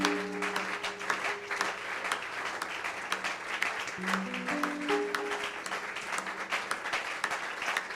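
A church congregation applauds steadily, with dense, rhythmic clapping throughout and sung or played tones drifting underneath.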